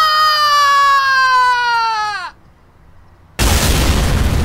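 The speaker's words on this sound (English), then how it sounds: "And, explosion" A loud, dense explosion effect from an animated cartoon bursts in abruptly after a falling, crying-like tone and a short quiet gap, filling the final second at full volume.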